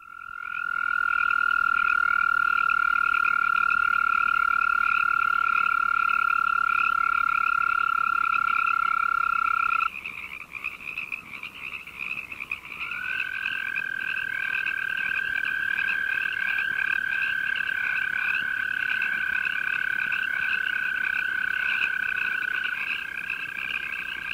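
Arizona toad (Bufo microscaphus californicus) calling near Victorville, California: a loud, sustained high trill held for about ten seconds, then resuming after a short break, with a Pacific tree frog chorus trilling behind it throughout.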